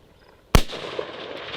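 Single sharp gunshot from an AR rifle fired at a long-range target outdoors, a loud close crack followed by a lingering echo rolling away across open ground.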